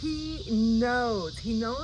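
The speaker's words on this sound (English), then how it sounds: "But I do hear cicadas out." Cicadas outdoors in the morning make a steady high-pitched drone, with brief wavering tonal calls rising and falling over it.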